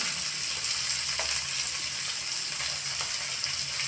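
Onions fry in a pan toward brown, giving a steady, close sizzle that hisses continuously with faint stirring scrapes and no speech.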